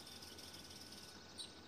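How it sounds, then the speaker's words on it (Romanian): A young cricket chirps steadily in an organic orchard in late June, a thin, continuous high trill held close over soft outdoor background noise. "Deci am reușit să filmez un pui de greier."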